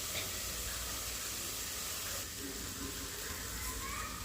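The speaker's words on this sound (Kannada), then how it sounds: "ಶುಂಠಿ ಬೆಳ್ಳುಳ್ಳಿದು ಹಸಿ ವಾಸನೆ ಹೋಗೋವರೆಗೂ ಫ್ರೈ ಮಾಡ್ಕೊತಾ ಇದ್ದೀನಿ" Green chilies and ginger garlic paste frying in a pan for ghee rice, a steady dense sizzle and hiss throughout, close and loud with no break.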